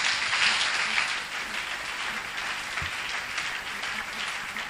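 Church congregation applause and acclamation at an evangelistic service, a diffuse, moderately loud wash of clapping that eases slightly after the first second and continues steadily.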